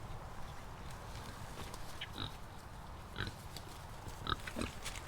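Pigs on a market garden farm, including a boar with big tusks, give several short grunts and snorts at moderate distance over a steady outdoor background, with no talk.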